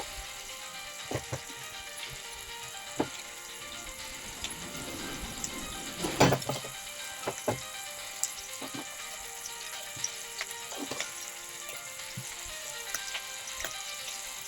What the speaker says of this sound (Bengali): খুব একটা কড়া করে ভাজবো না হালকা করে ভেজে তুলে নেব চিংড়িগুলো